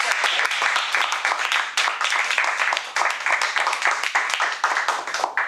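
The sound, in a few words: round of applause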